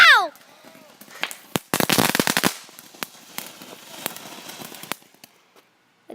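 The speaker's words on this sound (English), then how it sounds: "Okay, that is the firework that I lit." A lit firework going off outdoors: a rapid string of loud crackling pops lasting about a second, followed by scattered sharper bangs and crackles that thin out, with a brief whistling sound at the start.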